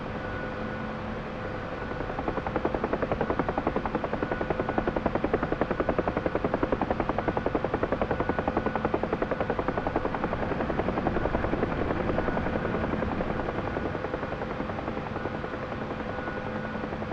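A helicopter's rotor thumps in a steady, continuous beat with a droning engine whine underneath, loud and close throughout, while the pilot practises slide taxiing over a grassy slope.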